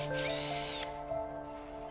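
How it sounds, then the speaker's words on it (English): A power drill turns a tap drill bit to seat an M6 T-nut in a hole in the side cover of a DIY angle grinder cutting jig. A close, steady whine comes with a brief harsher burst of cutting noise at the start. "Use tap drill bit to put T-nut M6 on the hole."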